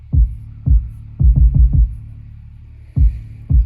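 A deep 808 bass in a beat being mixed in Logic Pro X thumps in loud, booming hits with decaying tails, an irregular pattern of single and quick clustered notes.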